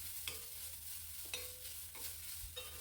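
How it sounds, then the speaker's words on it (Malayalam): Chopped mango sautés in a pan for mango pachadi, with a faint continuous sizzle and a few distinct spatula scrapes at roughly even intervals, quiet and close. "മാങ്ങയും കൂടെ ചേർത്ത് നന്നായിട്ട് വഴറ്റിയെടുക്കാം"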